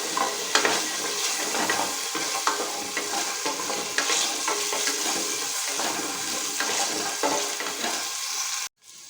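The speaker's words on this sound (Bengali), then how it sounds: "যে আলুটা আছে এই আলুটাকে একটুখানি ফ্রাই করে নেব" Potato pieces fry in a mix of hot ghee and oil for bhoger khichuri, giving a steady, close, hissing sizzle that runs without break until a short drop near the end.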